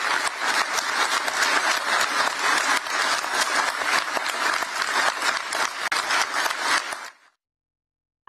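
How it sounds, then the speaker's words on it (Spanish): Sustained, dense applause from a large audience after Ursula von der Leyen's speech, steady and loud for about seven seconds before cutting off abruptly into silence. "Aplaudidas las palabras de Ursula von der Leyen"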